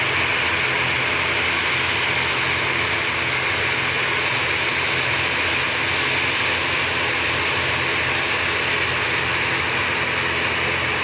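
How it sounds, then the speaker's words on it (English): Kuwait Airways Airbus A320neo jet at Manchester Airport, a steady, even engine roar and hum that stays constant and moderately loud for the whole stretch, with no voices. "A320 Neo from Q8 City."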